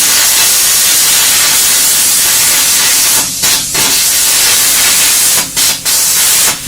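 A plasma cutter slices through engine bay sheet metal with a loud, steady hissing roar, broken by a few short pauses and restarts as the torch moves.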